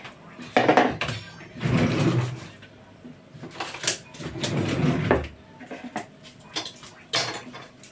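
A knife knocks against a board while chopping potatoes and dishes clatter, with rhythmic cutting taps and clanking utensils in a kitchen, no talking.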